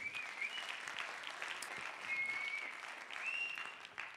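Audience applause at a youth theatre performance, a steady soft patter of clapping from a fairly distant room with a few shrill whistles cutting through.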